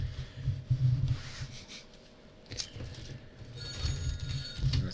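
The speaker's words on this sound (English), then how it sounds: "That's the shop phone ring." A shop telephone rings with a steady electronic tone, continuing alongside rustling and handling noises from a Warhammer 40k box opening, moderately loud and close.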